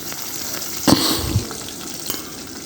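Ginger garlic paste hits hot oil in a pot for beef biryani, a loud steady sizzle with a sharp burst as it goes in and a few spoon knocks, no voices.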